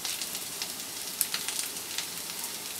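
Potato singara filling with green chilli fries in a pan over a medium-high flame, giving a steady, even sizzling hiss with a few small pops and no talking.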